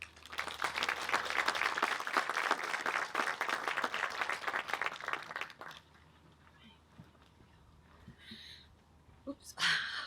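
An audience at the Redwood Coast Airport Microgrid grand opening breaks into dense, sustained applause for about six seconds, then the clapping fades into quiet room noise with faint movement and a brief noise at the end.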